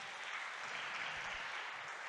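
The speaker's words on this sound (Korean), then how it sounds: "여러분 응원의 박수 한번 부탁을 드립니다." Faint, distant audience applause fills a formal indoor forum opening, a steady wash of clapping with no voices over it.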